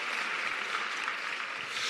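A commencement crowd at an art school graduation claps in a dense, even wash of applause, heard faint and distant without a break.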